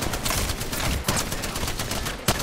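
Sustained automatic gunfire from an Apex Legends firefight rattles in fast, dense bursts throughout, loud and close, with a couple of sharper impacts standing out.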